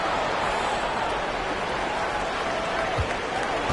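Arena crowd noise from a virtual basketball game in NBA 2K23, a steady wash of cheering and applause held at an even level throughout, with no clear speech over it.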